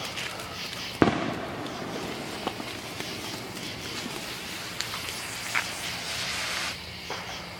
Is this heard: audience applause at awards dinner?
no